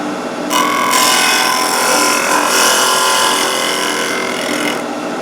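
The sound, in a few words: drill press with safety planer cutting wood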